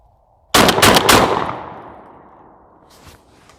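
A Girsan MC312 semi-auto sport shotgun fires a rapid string of three or four loud, close shots, the blasts ringing into a long decaying echo before a faint clatter follows.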